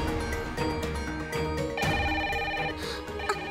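A telephone rings steadily in a TV serial scene, its tonal ring sustained for a few seconds at moderate loudness with no talk over it.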